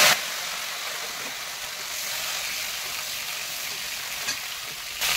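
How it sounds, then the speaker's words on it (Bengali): Boiled cauliflower and potato fry in hot oil with a steady broadband sizzle and a faint clink partway through, continuing without voices. "এবার এই সিদ্ধ করা কপি আর আলু অল্প আমি তেলের উপরে ফ্রাই করে নিই।"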